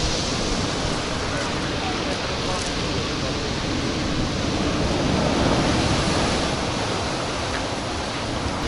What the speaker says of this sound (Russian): волны до самых кафе добивают